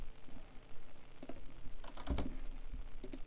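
Several soft clicks of a computer mouse while copying a value between a spreadsheet and a console, quiet and sparse, with a few louder click bursts against light room noise.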